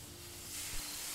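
Hissing steam in the game Gray Dawn, a steady broadband rush that swells a little louder halfway through, with a faint tonal hum beneath and no voices.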